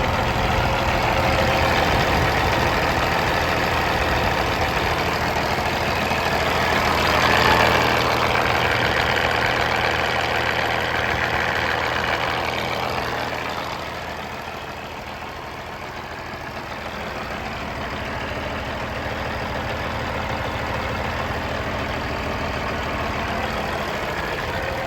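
A 2017 Peterbilt 389 glider truck with a Cat 6NZ diesel engine idles steadily, a close, even low rumble that dips slightly in level partway through, with no talking.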